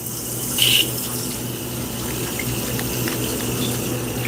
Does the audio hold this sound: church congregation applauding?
no